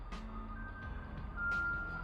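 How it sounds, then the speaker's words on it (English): An ice cream truck passes on a street in China, giving off steady electronic beeping tones over a low rumbling engine, with the sound swelling slightly toward the end. "Is that an ice cream truck?"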